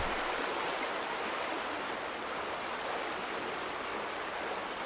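Steady rushing of flowing water from a stream in The Vanishing of Ethan Carter, a constant broadband wash that stays even and unbroken throughout with no talking.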